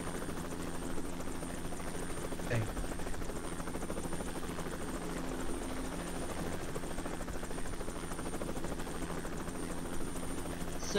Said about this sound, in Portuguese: Alguém com helicóptero dá medo pra galera aí.